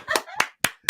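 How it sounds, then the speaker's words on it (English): Four sharp hand claps in quick, slightly uneven succession ring out close and fairly loud, a short burst of clapping from a small group with no talk. "They're all giving you a round of applause."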